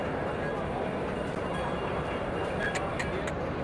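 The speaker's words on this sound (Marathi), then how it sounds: "डायरेक्ट बघा ट्रेन" A toy train at an amusement park expo runs with a steady rumbling rail noise, and a few faint high clicks come near the end.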